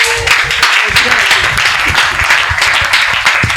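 Congregation at a church service in Douala applauding and acclaiming the Lord, a dense, continuous wash of clapping and cheering voices filling the room at steady loudness throughout.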